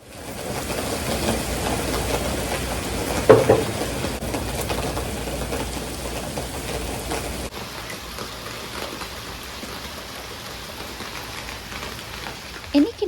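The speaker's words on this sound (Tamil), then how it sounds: "நல்லா மழை பெஞ்சிட்டு இருந்ததுங்க" Heavy rain pours steadily as a dense, loud wash of noise that persists without a break, with a brief louder spatter near the start.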